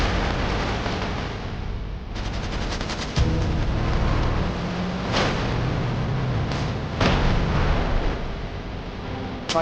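Dense gunfire and explosions from a strategy video game's artillery fire mission, a continuous loud barrage of rapid shots with heavier booming impacts scattered throughout.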